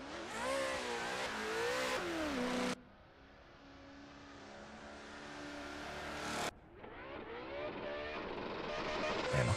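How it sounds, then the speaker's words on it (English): Drift car in a qualifying run at Pittsburgh, driven hard on throttle uphill toward the outside wall: loud revving engine that drops away briefly, then surges back, with a commentator talking over it. "And hard on throttle is Steven Hatcher throwing that car in"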